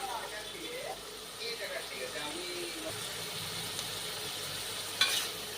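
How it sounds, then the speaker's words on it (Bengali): Sliced carrots go into a frying pan for egg chicken fried rice, adding a soft continuous sizzle with faint stirring and one brief clank near the end. "এরপর আমি স্লাইস করে গাজর কাটা আছে সেটা দিয়ে দিচ্ছি"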